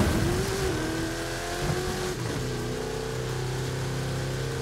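A car engine in Forza Horizon 5 drives steadily off the route, a close, loud, continuous drone whose pitch climbs and dips slightly as revs shift, with no talking.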